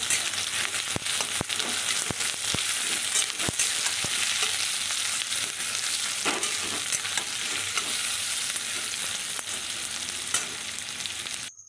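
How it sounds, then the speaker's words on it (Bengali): Onions frying in mustard oil until browned for a spicy Bombay duck fish curry make a loud, continuous close sizzle, punctuated by scattered spoon clicks and scrapes, with no voices. "পেঁয়াজটা একটু বেশ বাদামি বাদামি করে ভেজে নেব এখানে"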